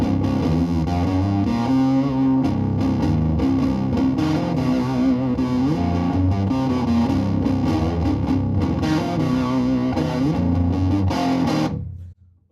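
Electric guitar run through a notch-and-slope effects pedal, giving a warm bluesy tone; a steady, loud rhythm part plays throughout with dense chords, then cuts off sharply at the very end.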